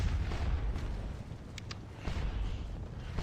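Booming artillery and canister fire from Napoleonic cannons in the Waterloo strategy game, heard as dense, rumbling blasts with sharp cracks that roll continuously through the short stretch.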